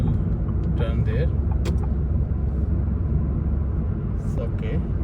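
A car passes on a city street in the Sharafiyah neighborhood of Riyadh, a steady broadband road rumble heard from inside a moving Changan Eado 2, with faint brief noises above it and no one talking.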